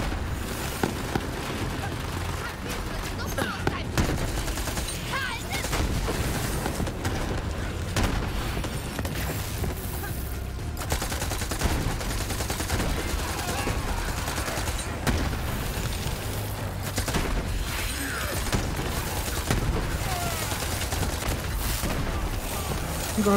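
Explosions and rapid gunfire fill a Borderlands 3 battle, with dense fusillades and booms running continuously and loudly throughout.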